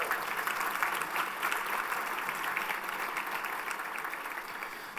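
Audience at a conference luncheon applauding, a sustained even wash of many hands clapping, moderately distant in a large room, slowly tapering.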